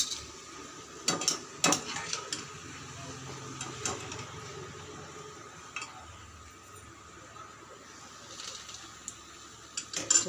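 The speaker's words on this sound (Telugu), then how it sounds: "మంచి కలర్ వచ్చే వరకు అయితే ఫ్రై చేసుకోవాలి." Sweet bajji frying in oil, a quiet bubbling hiss with scattered clinks and taps of a utensil against the pan.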